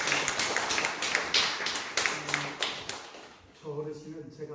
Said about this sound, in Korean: 우리 한번 박수 한번 해주시죠.